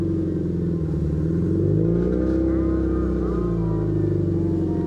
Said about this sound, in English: My heat shield is rattling. I don't know, I think the exhaust is hitting that middle heat shield, the curved one.